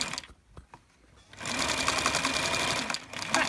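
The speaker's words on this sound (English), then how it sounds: "So back to the sewing machine" A sewing machine runs steadily in a loud, continuous mechanical whir after a brief quiet start with a few soft clicks.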